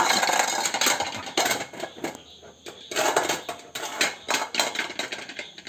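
A Labrador picks up an old washed pot, which knocks and clatters in repeated uneven clanks close by while a person keeps talking.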